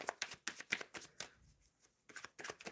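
Quick rustling tarot card shuffles in a steady series of bursts, fairly close, with a brief quieter pause midway before the riffling resumes.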